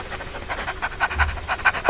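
Rapid, rhythmic panting breaths are made as a breathing exercise during a vocal lesson, close and moderately loud, with short sharp exhalations repeating steadily.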